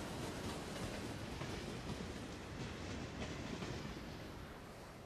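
A tram rolls into a stop in the city-building game Cities in Motion 2, a steady broadband rumble with faint rail clatter that holds for about five seconds and eases slightly at the end.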